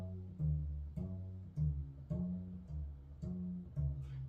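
Homemade tea chest bass strung with laundry string, plucked in a slow even rhythm of about seven deep, thumping notes, each decaying quickly, quiet and close with no voices.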